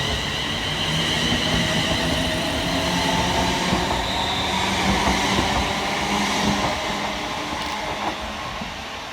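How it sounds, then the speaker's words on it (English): Two coupled Scotrail class 380 electric trains pull away from Lochwinnoch station on the Ayrshire Coast Line, a steady, loud rumble of wheels and traction motors sustained throughout with faint rail squeal, no voices. "we see the departure of 380-110 and 380-016 working the 1046 Scotrail service Largs through to Glasgow Central."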